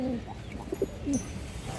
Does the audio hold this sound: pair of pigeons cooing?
yes